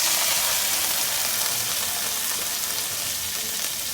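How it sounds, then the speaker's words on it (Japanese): Green peppers stir-fried in oil in a pan for a Japanese home-style dish: a continuous, close, bright sizzle with crackling spatter, steady and even throughout, with no talking. "もうちょっとピーマンしんなりするまで炒めてまいります"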